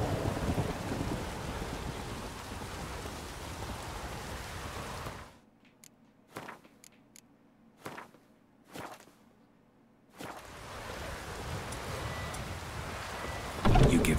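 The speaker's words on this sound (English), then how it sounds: "It's got a nice lightning storm to go along with it." A thunderstorm with rain in The Witcher 3: Wild Hunt gives a steady, loud downpour that drops out briefly while sharp cracks of thunder snap through, then the heavy rain roars back.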